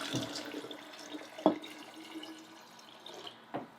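Warm water poured from a jar into a bag, faint trickling and sloshing with a couple of sharp drip-like splashes.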